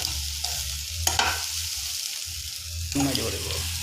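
Soybean and banana flower curry frying in a pan and being stirred, with a sizzling hiss broken by scraping bursts of stirring, a brief quieter gap, and faint voices in the background.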